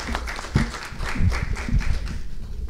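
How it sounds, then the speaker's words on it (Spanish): Audience applause greeting the commission president at a public forum on universal accessibility, a steady patter of many hands with a few louder claps standing out, moderately close throughout. "quien le vamos a recibir con un voto de aplauso"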